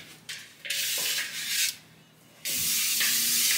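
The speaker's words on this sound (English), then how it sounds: "It's spray oil." Cooking oil sprays from an aerosol can onto a pan in several hissing bursts, a long first burst, a short pause, then another sustained spray, close and fairly loud with no talk.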